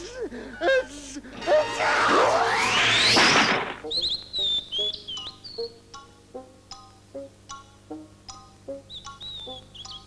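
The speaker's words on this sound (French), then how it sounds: "Les fleurs, les petits oiseaux sont si beaux." Small birds chirp in spring, a string of short, bright tweets repeating at an irregular pace after a loud sweeping whoosh, with faint background voices beneath.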